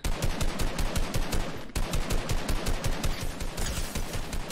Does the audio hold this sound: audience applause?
no